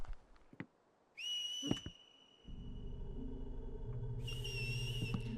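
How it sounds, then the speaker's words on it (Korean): Someone whistles poorly in a dark, empty mansion: two wavering, breathy high tones held for a few seconds each, separated by a pause, with a steady low hum and brief knocks underneath. "너 휘파람 되게 못 분다."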